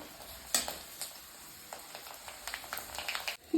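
Kurdai frying in hot oil in a home kitchen, a soft crackling sizzle with scattered pops and bubbling bursts, steady and close, no voices.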